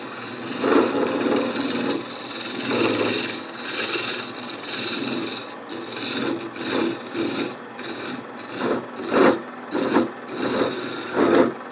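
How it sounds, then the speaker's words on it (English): Rough scraping of a scraper against spinning wood on a lathe, smoothing a geometric shape, coming in repeated bursts that grow shorter and more rhythmic toward the end, close and fairly loud. "I'll probably wind up using a scraper to kind of smooth those up."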